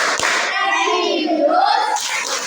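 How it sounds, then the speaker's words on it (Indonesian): A group of children in a classroom claps along to the Tepuk PPK chant: quick hand claps and a sharp slap, mixed with young voices chanting rhythmically, all close and lively. "mari kita tepuk PPK dulu ya"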